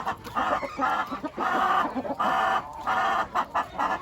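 Hens on a farm clucking while being fed greens, a close group chorus of repeated clucks and short squawks in uneven bursts.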